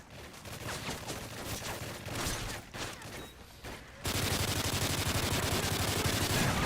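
A sentry gun fires rapid automatic bursts in a video game, choppy volleys giving way to a loud, unbroken stream of gunfire.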